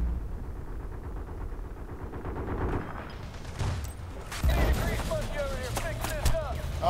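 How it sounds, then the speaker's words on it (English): Gunfire clatters through a Battlefield: Bad Company 2 match, dense bursts of machine gun fire rattling over engine rumble with sharper shots landing near the end, while voices talk over the combat. "The machine gun killed me."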